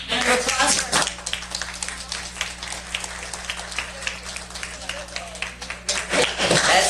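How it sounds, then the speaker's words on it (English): Audience applause at a public event in Lincoln City, Oregon, a broad wash of clapping that dips in the middle and swells again toward the end, with a voice heard over it. "round of applause for"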